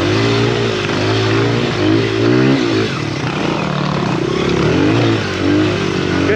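Honda XR100 dirt bike engine on a tight wooded enduro trail, revving loudly and close with rising and falling pitch as the throttle opens and closes, with other bikes droning nearby.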